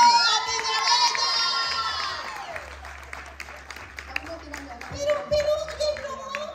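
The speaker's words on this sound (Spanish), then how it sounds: "¡Dale un fuerte aplauso a mi bella!" Crowd at a Mujeres Con Propósito event applauding and cheering, a voice singing or calling loudly at first before a lively wash of claps, shouts and whoops fills the room.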